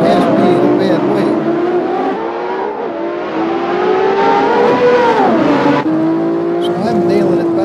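Engine of a race car with a 6-speed gearbox lapping the track, sustained loud revving with rising pitch and gear shifts, while someone talks over it.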